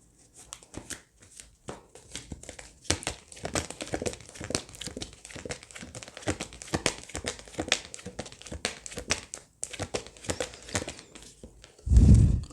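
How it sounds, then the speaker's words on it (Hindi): Tarot cards are shuffled by hand in a quick series of crisp, papery riffles and slaps, close and fairly quiet, ending with a louder thump. "चलो थोड़ा इसको शफल कर लेते हैं"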